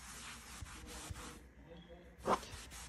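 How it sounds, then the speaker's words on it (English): A Mr. Clean sponge scrubs a dirty picture frame in quick, quiet rubbing strokes, close and faint, with one brief louder scrape near the end. "just take the Mr. Clean sponge, and you're just gonna go through and just scrub it"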